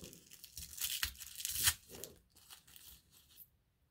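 Close, fairly quiet ripping of tape and cardboard in several quick bursts that crackle and crinkle as a heavily taped package is torn open, then stop into silence.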